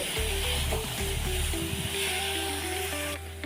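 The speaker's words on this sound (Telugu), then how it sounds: "ఇప్పుడు తోటకూర వేసుకుందామండి. తోటకూర వేసుకొని బాగా కలపాలి." Amaranth leaves sizzle steadily in a hot pan while being stirred for a dal curry with turmeric, a constant frying hiss with a low hum beneath and light scraping throughout.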